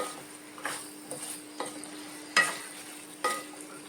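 Pumpkin being stirred in a frying pan, with a handful of distinct spoon scrapes and clinks against the pan over a soft sizzle, close and fairly quiet, with no one talking.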